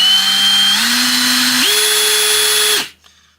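An Einhell 18V brushless combi drill, model TE-CD 18 Li-i BL, whirs loud and close with no voices, its motor pitch stepping up through several trigger speeds before cutting off and spinning down.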